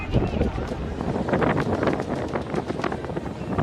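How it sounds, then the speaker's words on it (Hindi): Strong gusting wind from Cyclone Jawad on the eastern Indian coast, buffeting the microphone with a loud, continuous rushing roar for a few seconds. "तेज रफ्तार से हवाएं चल रही हैं।"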